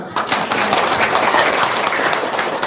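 An audience breaks into applause, a dense burst of clapping that stays loud and steady throughout, with voices mixed in.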